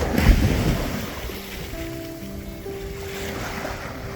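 Calm sea waves wash gently onto the shore near wind turbines where fishermen head out, a soft continuous surf hiss with light wind buffeting the microphone and a faint low tonal hum, no voices.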